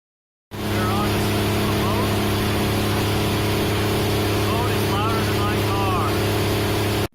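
A boat engine drones steadily and loudly throughout, a constant low hum with rushing water noise layered over it.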